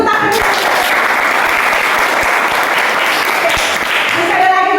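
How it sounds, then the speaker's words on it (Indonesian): Students clapping in a classroom, a continuous burst of many hands close and loud, holding steady for several seconds before tapering at the end. "kita kasih tepuk tangan"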